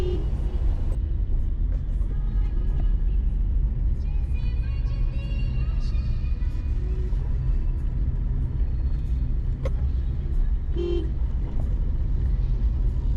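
A car driving on a road toward Shantiniketan, with a constant loud engine and road rumble heard from inside the vehicle and occasional faint horn toots and passing traffic.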